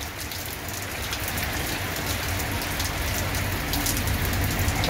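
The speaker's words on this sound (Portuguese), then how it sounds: "É muita chuva." Heavy rain pours steadily in Joaquim Gomes, Alagoas, a dense, constant hiss of drops drumming on surfaces throughout, loud and close with no voices.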